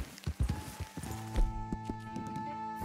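Rhythmic horse hoofbeats clop along steadily in the video game Red Dead Redemption 2, with tonal music and ambient layers underneath.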